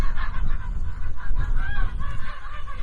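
Geese honk repeatedly on a free-range farm in Kharkivtsi, their loud calls close by over a busy rustle of farmyard noise.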